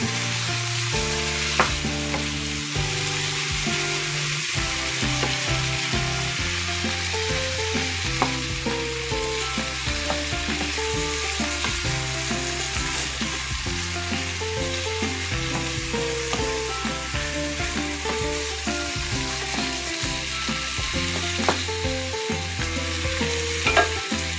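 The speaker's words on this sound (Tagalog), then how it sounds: "ilagay natin itong beef na giniling. Haluin lang po na ganyan." Ground beef fries in a pan with a dense, continuous sizzle while a utensil repeatedly scrapes and stirs it in steady, rhythmic strokes, close and even throughout.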